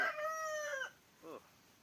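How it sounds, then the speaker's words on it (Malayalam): A rooster crows once nearby, a loud drawn-out call, followed by a shorter, quieter squawk after a brief pause. "ഒരു നേരം പോക്കില്ലാത്ത കോഴിയാണെന്ന് പല സമയത്ത് കൂവുന്നായിരുന്നിട്ട്"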